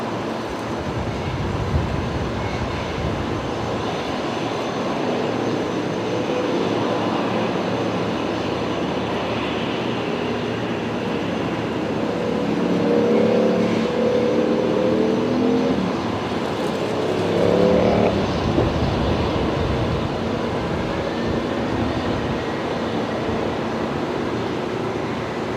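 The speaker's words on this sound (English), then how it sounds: "Okay, Qantas 631 just cleared for takeoff. Runway 19 left." Qantas airliner taking off from runway 19 left at Brisbane Airport, a sustained broad jet roar heard from a distance that swells and recedes over about twenty-five seconds, with no voices.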